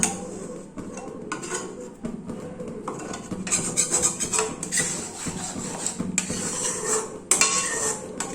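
A metal spoon scrapes thickened milk from the sides of a kadai while making kheer doi, with repeated clinks and scraping strokes against the pan, close and fairly loud, with no talk.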